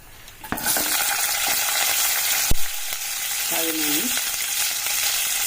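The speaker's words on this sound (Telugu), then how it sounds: "ఇప్పుడు పచ్చిమిరపకాయలు వేసుకోవాలండి" Green chillies drop into hot oil for a puri curry of tomato, potato and onion, setting off a sudden loud, close, continuous sizzle with a few sharp clatters and stirring scrapes, and nobody speaking.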